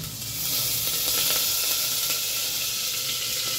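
Curry leaves hit hot oil in a pan that already holds ginger-garlic paste over a low flame. A close, loud sizzle and hiss flares up and then holds steady.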